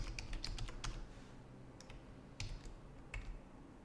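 Fast typing on a computer keyboard, a flurry of close keystrokes at first, then a few isolated clicks over a steady low hum.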